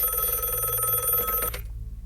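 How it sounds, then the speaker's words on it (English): A telephone in the video game Friday Night Funkin' rings with a steady electronic bell tone for about a second and a half, then cuts off. "The phone is ringing again."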